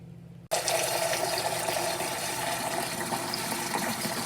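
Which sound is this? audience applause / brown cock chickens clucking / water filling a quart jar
water filling a quart jar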